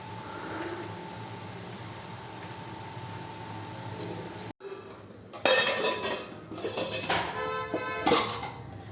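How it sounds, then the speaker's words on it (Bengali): Cabbage pakora batter is mixed by hand in a bowl: a low steady background gives way to a short pause, then close clinks and scraping knocks against the bowl, with no one speaking. "এটা এখন ভালো করে মেখে নিতে হবে"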